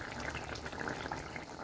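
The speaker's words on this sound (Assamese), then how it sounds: "এতিয়া পূৰা উতলি আছে" A pot of fish curry with potatoes bubbling at a steady boil, giving a continuous close watery burble with no talk.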